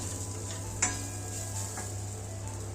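Masala for green chickpea kachori being sautéed in a pan, a low steady sizzle with light scraping and a couple of brief spatula clicks against the pan, close and quiet with no speech.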